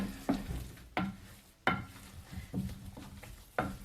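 A bowl of bran muffin batter with raisins being mixed by hand, thick scraping strokes and occasional knocks of the utensil against the bowl, close and fairly quiet, with no talk.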